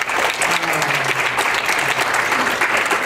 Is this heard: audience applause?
yes